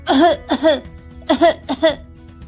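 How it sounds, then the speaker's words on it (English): Four short, harsh coughs in two quick pairs, close and fairly loud, with a brief pause between the pairs. "And a very bad cough."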